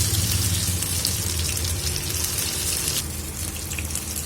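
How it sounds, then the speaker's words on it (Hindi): Soya chunk kebabs go into hot oil in a pan, giving a steady, close, crackling sizzle that carries on without a break and eases slightly toward the end. "एक पैन में हमने यहाँ तेल को गरम कर लिया है। अब डालेंगे हम ये कबाब।"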